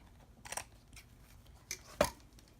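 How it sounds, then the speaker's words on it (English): Quiet, close snips of small scissors cutting lace, a few separate crisp cuts with one sharper snip near the end, over faint background. "I'm going to use my smaller scissors, however, so I can get it straight."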